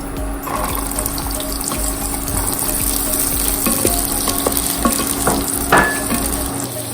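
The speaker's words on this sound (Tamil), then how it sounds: "வெங்காயம் நல்லா வதங்கணும்." Small onions and curry leaves fry in hot oil in a pan for chicken chinthamani, giving a steady close sizzle with occasional stirring scrapes and clinks and no talking.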